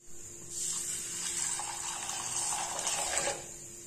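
Half a cup each of moong dal and rice get rinsed under running water, a soft continuous gushing and splashing that rises after a moment and holds steady before easing off.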